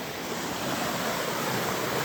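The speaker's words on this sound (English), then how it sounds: "It has now turned into a full-on rapids." A stream swollen by a flash flood after heavy rain along the Appalachian Trail rushes like rapids, a loud, steady broadband roar of churning water close by with no voices.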